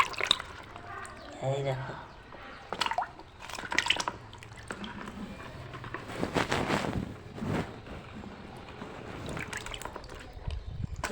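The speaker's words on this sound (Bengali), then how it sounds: "এই দেখো, এই দেখো জ্যান্ত কই মাছ বড় বড়।" Large live climbing perch from a drained pond splash and thrash in water, giving bursts of wet slaps and drips throughout, with someone talking over them.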